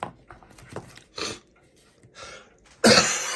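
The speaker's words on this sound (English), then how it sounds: "My kids have given me this cough over the last couple days." A person suffering from a cough picked up from their kids coughs several times in short, close bursts, with quieter throaty coughs early on and a loud, harsh cough near the end.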